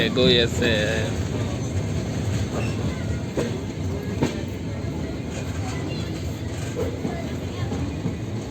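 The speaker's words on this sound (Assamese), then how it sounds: "ষ্টেচনলৈ গৈ আছে ট্ৰেইন লাহে লাহে" A train rumbles steadily with clattering wheels and faint squeals, moving slowly into a station on the Tinsukia to Guwahati route, while people talk nearby.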